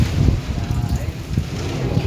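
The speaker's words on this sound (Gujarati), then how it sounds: "જો કેવો અવાજ આ પવનનો અવાજ આવે" Strong storm wind gusts and buffets roughly against the microphone, a loud low rumble that rises and falls with no letup.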